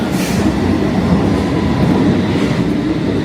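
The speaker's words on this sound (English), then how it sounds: "I'm going to take the tube in the underground, which is their version of the subway." A London Underground tube train runs along the track with a loud, continuous rumble and a clattering rattle heard from inside the carriage, with no voices.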